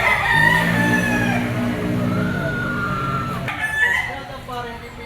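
Yellow-legged Sweater Kelso bloodline gamecock rooster crowing loudly and close, one long drawn-out crow with harmonic tones, followed by softer clucking and faint voices in the background.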